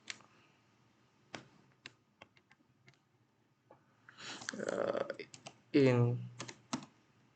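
Keys tapped on a computer keyboard in scattered, sparse clicks, close and soft, while a person speaks in between.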